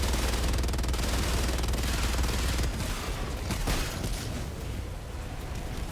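Rapid, continuous Gatling gun fire from a mech in a video game, dense and loud for about three seconds before giving way to a rumbling wash of impacts and debris.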